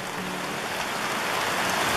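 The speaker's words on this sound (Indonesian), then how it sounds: "Soalnya diguyur hujan ini." Heavy rain pours steadily over a forest during a traditional wild boar hunt, a dense, close hiss of drops that stays even from start to finish with no voices.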